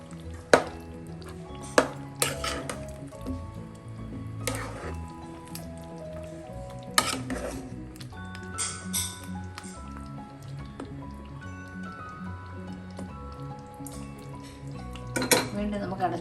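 Creamy handi chicken curry with yogurt stirred in a pot over low flame, giving wet squishing, soft scraping and occasional clinks of a spoon against the vessel, close and moderately quiet.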